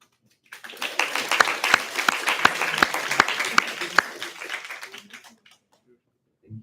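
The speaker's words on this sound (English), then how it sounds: "I just wanna like to ask you for a big round of applause for Malaika for now being our representative" Applause from a meeting audience at a general assembly, a dense patter of many hands with a few sharp claps standing out, starting abruptly, holding steady for about four seconds and tapering off into silence.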